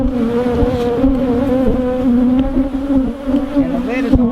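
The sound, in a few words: bees buzzing at an open beehive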